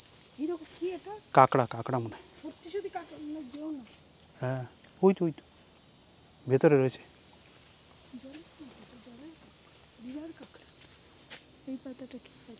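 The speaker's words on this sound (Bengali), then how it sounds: "ঝিঝি পোকার ডাক শোনা যাচ্ছে ভালোই।" Crickets on Koh Rong Island, Cambodia, keep up a steady high, continuous chirping drone throughout, with people talking intermittently over it nearby.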